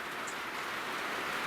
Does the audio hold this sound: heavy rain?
yes